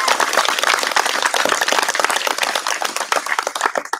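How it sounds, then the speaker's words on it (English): Audience at a graduation ceremony clapping loudly, with individual claps distinct and fluctuating in a lively, close burst of applause for about four seconds. "So, you guys, big applause."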